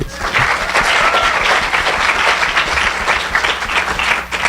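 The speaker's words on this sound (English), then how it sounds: "So clap it up for her, please." Applause from a keynote audience in Madison, dense steady clapping that fills the room at full loudness, continuous with no pauses, with a faint voice or two mixed in.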